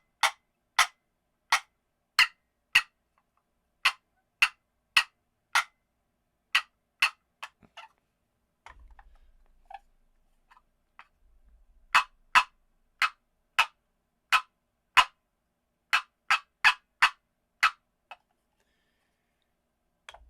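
A wooden box call, walnut or catalpa, imitates a turkey gobble as rapid sharp clucking strokes in quick bursts, with a pause of faint handling noise between two runs.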